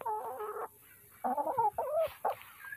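Lohmann Brown hens cluck and murmur close by in short, irregular bursts separated by brief pauses, with no talk.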